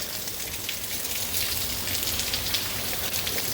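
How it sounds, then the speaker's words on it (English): Heavy rain pours down steadily, a dense, loud hiss of drops hitting surfaces close by, unbroken throughout with no voices. "Man, it's raining hard, bro."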